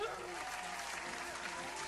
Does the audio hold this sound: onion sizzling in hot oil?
no